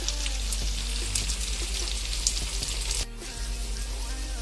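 Green chili, ginger and garlic sauté with onions in a pan for fish biryani, a steady sizzle with bubbly crackles over a constant low hum, one brief scrape of stirring.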